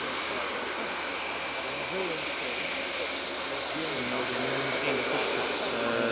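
Four-engine Airbus A400M Atlas military transport of the German Air Force at an air show, a steady broadband engine roar filling the scene at close range while people talk over it.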